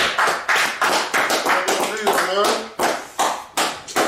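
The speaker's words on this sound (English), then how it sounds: "Clap it up." Claps ring out on a podcast set as a few people in a studio clap loudly and close up in an irregular burst, with voices talking over them.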